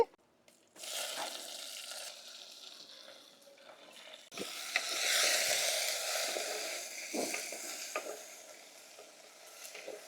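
Onions and green chillies hit hot tempering oil with dry red chillies and curry leaves for tomato rasam, a soft, close sizzle with stirring scrapes and faint clinks, no talking.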